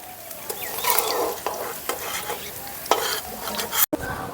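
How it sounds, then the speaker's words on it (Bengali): Paneer fries in a pan, crackling and sizzling with busy popping while a utensil stirs and scrapes against it in irregular strokes, close and alone. "পনিরটা ভেজে নিলাম, এখন আলু আর পটলটাকেও ভেজে নেব।"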